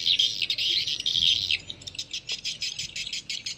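A swiftlet lure call plays as a recording meant to attract young swiftlets: rapid high-pitched chirping in a dense burst, then a run of evenly spaced sharp tweets, alone and moderately loud.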